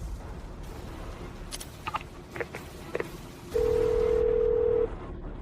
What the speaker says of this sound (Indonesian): Aku telepon sekarang, langsung tahu pemiliknya.